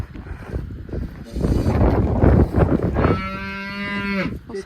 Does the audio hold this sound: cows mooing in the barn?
yes